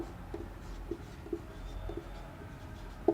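Marker or chalk writing an algebraic expression on a classroom board, faint scratchy strokes and light taps in an irregular rhythm over a quiet background hum, with no talking.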